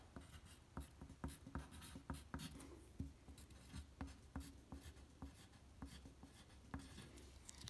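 A pencil writing on paper in quiet, close surroundings, with soft scratchy strokes and steady rhythmic taps as letters are formed, and no voices.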